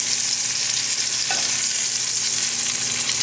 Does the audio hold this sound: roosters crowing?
no